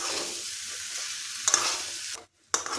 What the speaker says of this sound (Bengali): ছোলাটা খুব ভালোভাবে কষিয়ে নেব।